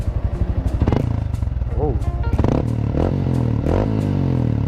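A Yamaha Sniper 155 motorcycle fitted with a Kalkal exhaust pipe, idling and then revved in several sharp throttle blips that rise and fall, loud and close, with a brief exclamation from a person.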